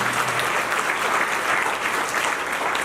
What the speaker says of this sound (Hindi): एक बार जोरदार तालियां लगा दीजिए।